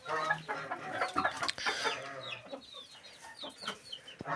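Chickens clucking in a coop at night, several birds giving soft, scattered clucks and short calls, fairly quiet and close, with no talk.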